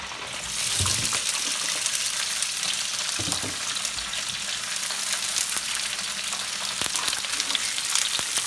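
Onions and bean sprouts fry in hot oil alongside chicken thighs for fried rice, giving a steady, close sizzle throughout with a few louder spatters and stirring clinks.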